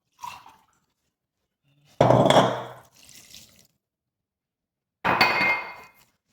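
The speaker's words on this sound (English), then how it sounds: "I'm going to pour some wine to loosen that up a little" Wine poured into thick cake batter for an eggless, sugar-free Jamaican black rum cake: two short, close splashing pours separated by quiet, with a faint clink of glass or bowl between them.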